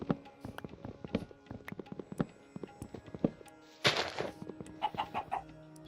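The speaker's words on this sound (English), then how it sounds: "Chicken." Minecraft chickens clucking in short, scattered bursts among clip-clop-like footsteps and block-breaking knocks, with a denser rustling burst partway through.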